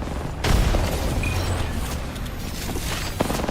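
Grenade blasts in an Apex Legends esports match, a heavy boom near the start followed by rumbling explosive noise and a sharp burst near the end, loud and dense in the game mix.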